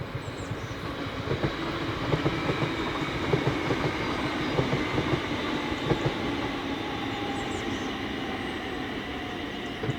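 A ScotRail passenger train, unit 38115, runs the Ayr-to-Edinburgh service across Motherwell Viaduct, making a steady rolling rumble with repeated wheel clicks over the rail joints that lasts the whole stretch.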